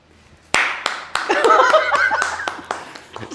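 Several sharp hand claps from one person, close and fairly loud, an uneven handful of slaps spaced across a few seconds while excited voices and laughter carry on underneath.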